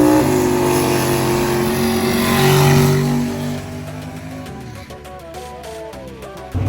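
Fast race cars at a charity race accelerate in a loud, sustained engine roar that swells to a peak, then fades as other engine tones and rattles take over toward the end.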